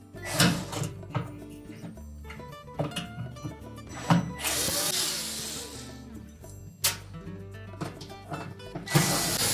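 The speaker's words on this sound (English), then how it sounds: "next we're going to remove the screws that secure that to the back wall" Phillips or square-head screwdriver taking out the screws that hold the rear wall shield inside a Whirlpool range oven: repeated close clicks, scrapes and metallic clatter of the panel in irregular bursts, with no talking.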